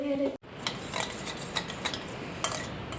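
Metal cutlery scrapes and taps against dishes in a quick irregular series of light clinks while rice is served, close and fairly soft, with no talking.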